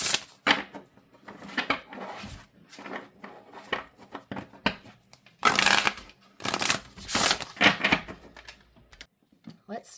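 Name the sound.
shuffling Odyssey Oracle cards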